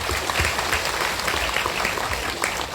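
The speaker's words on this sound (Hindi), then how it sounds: "आप लोग थोड़ा सा ताली मार दीजिए" A crowd of people clapping at a press conference, a brief dense burst of applause holding a steady level throughout.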